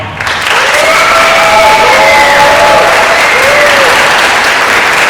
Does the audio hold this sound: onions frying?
no